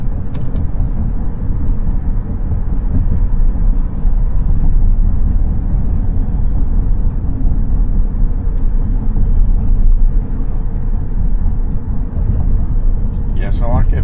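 A Tesla Cybertruck, the CyberBeast, drives along a road under Full Self-Driving, giving a loud, steady low cabin rumble of road and tire noise that barely changes throughout.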